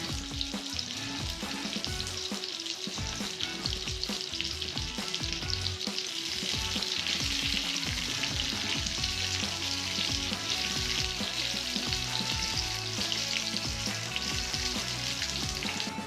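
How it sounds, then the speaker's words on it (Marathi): Chopped onion fries in hot oil in a kadai, a dense continuous sizzle close by, with intermittent stirring knocks and scrapes throughout. "गरम झाले की त्यात एक चिरलेला कांदा घालून परतून घ्या."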